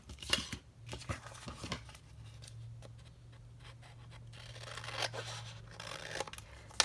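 Scissors snip and slice through paper for a Daphne's Diary bag junk journal, with a series of close, crisp cuts and rustling of pages over a low steady hum; no one talks.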